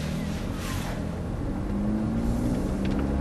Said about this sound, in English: And now we're into first. And gently away we go